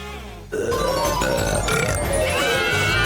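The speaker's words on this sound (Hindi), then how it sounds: "और अब एक असली डकार" A loud, rough burp right after gulping down a bottle of Coke, a sustained croaking belch that continues for several seconds, close to the mic in a kitchen.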